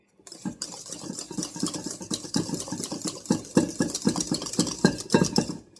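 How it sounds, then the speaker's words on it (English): Vanilla extract being mixed into macaroon batter, with a utensil beating against a bowl in a fast, steady rhythm of close clinks and scrapes over a low background hum. "I'm gonna do a teaspoon and a half of vanilla extract. Then we're just gonna mix that in"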